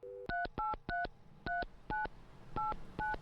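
Telephone keypad tones dialing a number in the game Mon Bazou, eight crisp, evenly spaced beeps following a brief dial tone, clear and alone without speech.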